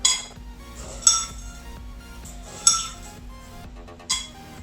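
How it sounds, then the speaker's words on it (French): A spoon clinks against a metal saucepan as coffee beans are added to milk, four sharp metallic taps spread over a few seconds against a quiet background. "je vais ajouter 2 cuillères à café de café. De café en grains comme ça."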